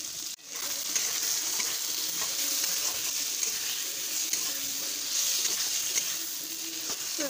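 Taro curry with hilsa fish head frying and being stirred in a pan, a close, continuous sizzle with soft scraping stirs, no talk over it.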